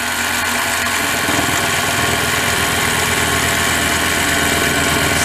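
A Harbor Freight mini lathe runs steadily at 1200 RPM, a loud, continuous motor whine and mechanical hum with no voices.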